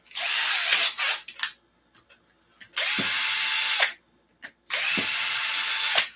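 A power drill fitted with a countersink bit runs in three sustained bursts on parts of an ARRMA Kraton RC car, each a steady, close high whine separated by short pauses and a few light clicks.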